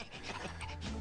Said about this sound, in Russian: это у нас полицейский пес Гектор